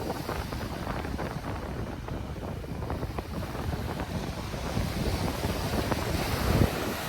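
Sea waves wash onto the shore at the seaside under heavy wind buffeting the microphone, a constant rough rushing that swells louder toward the end, with no voices.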